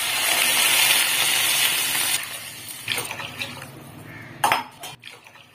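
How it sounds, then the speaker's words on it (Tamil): Water poured from a glass into a kadai of fried vegetables for paneer pulao, a broad splashing gush over the first two seconds, followed by softer clinks and stirring sounds of a utensil against the pan. "அரை கிலோவுக்கு இப்போ 4 கிளாஸ் வாட்டர் ஆட் பண்ண போகிறோம்."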